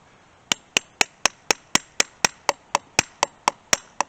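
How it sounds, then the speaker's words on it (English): Fourteen sharp, evenly spaced metallic taps from a small hammer driving a maple syrup tap into a backyard tree, close and crisp at about two strikes per second, with no talking. "Take a small hammer,"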